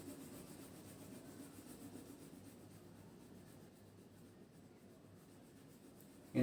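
Pencil drawing and colouring on paper for a forest scene, a soft continuous scratchy rubbing close by, steady and quiet throughout, ending with a brief louder knock.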